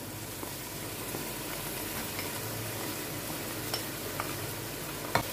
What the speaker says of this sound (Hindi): इसको अच्छा सा करेंगे मिक्स